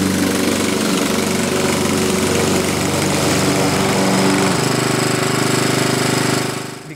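Toro Super Recycler walk-behind mulching mower, matte black, with its engine running steadily at close range, a loud continuous buzzing drone with rapid rattling pulses that fades out at the end, no talking.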